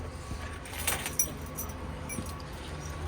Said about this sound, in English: There is 2 keys for the trailer.